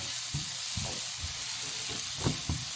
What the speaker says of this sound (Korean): 살살살 볶아주세요.